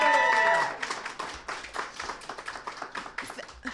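Clapping from a crowd at a nomination meeting, opening with a brief loud burst that mixes with a ringing tone, then settling into a quieter, uneven run of individual claps from scattered hands.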